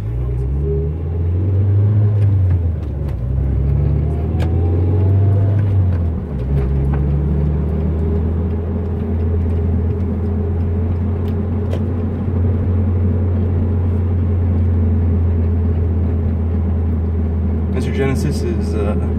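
A Hyundai Tiburon race car pulls away with a deep, steady engine rumble and low whirring drone, the pitch wavering early on, while a driver talks over it.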